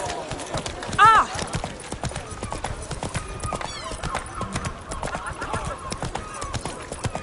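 A horse in The Witcher 3 gallops with fast, steady hoofbeats and gives one sharp neigh near the start, the clip-clop continuing throughout under a voice.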